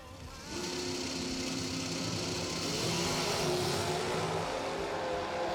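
A Camaro drag racing down the strip at a drag racing event, its engine surging in from a distance and holding a rising, sustained roar for several seconds, with no voices over it.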